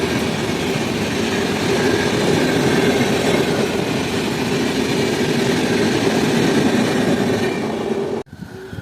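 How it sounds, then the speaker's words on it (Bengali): A 63141 Sealdah–Godda MEMU passenger train rumbles steadily as it pulls out of a station, a continuous loud roar with wheel clatter and a high squeal running throughout, cutting off abruptly near the end. "1 মিনিট হল দেওয়ার পর আমাদের ট্রেন ছেড়ে দিল এখন খানা জংশন রেলওয়ে স্টেশন"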